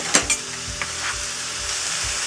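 Chopped tomato hitting a hot pan and frying, with a steady loud sizzle and a few clattering knocks at the start, close and continuous with no voices.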